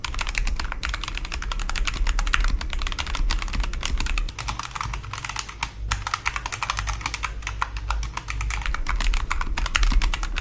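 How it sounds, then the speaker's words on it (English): A modded budget $23 keyboard is typed on quickly and continuously, giving a dense run of deep, thocky keystrokes up close with no voice over them. "The keyboard sounds way better than when we started. It's actually a THOCK keyboard now"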